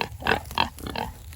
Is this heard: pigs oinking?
yes